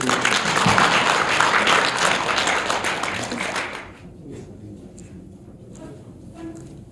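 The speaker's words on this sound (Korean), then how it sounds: "우선 이거 다 함께 한번 박수 한번 쳐주십시오" Applause from a forum audience at a city council citizen self-governance event, loud dense clapping for about four seconds that then drops away abruptly into quiet room tone.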